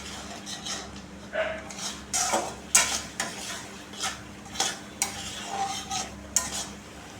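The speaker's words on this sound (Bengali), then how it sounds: "খুন্তি দিয়ে আমি একটু টমেটোগুলো একটু চেপে চেপে দিচ্ছি" A spatula presses and scrapes tomatoes in a pan of simmering masala, producing a series of distinct metallic knocks and scrapes at a fairly regular pace over a faint bubbling background.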